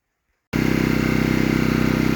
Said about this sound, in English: Got the generator fired up